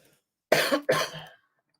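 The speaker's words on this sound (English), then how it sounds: "Still got a bit of a cough." Two quick, loud coughs in a row, close up, with silence before and after.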